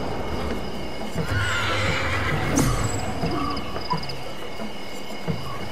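Miocene African horse in Ancestors: The Humankind Odyssey, a loud whinny and neigh rising and trailing off amid clip-clop hooves and savanna ambience, no talk.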